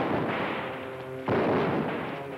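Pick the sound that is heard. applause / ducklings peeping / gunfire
gunfire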